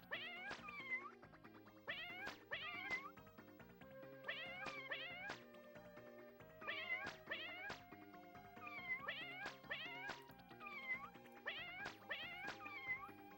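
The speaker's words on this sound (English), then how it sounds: "Gonna hear these cats in my nightmares" Looping chiptune cat meows in the SNES game The Addams Family: Pugsley's Scavenger Hunt, pairs of sharp yowls recurring every couple of seconds over bouncy game music throughout.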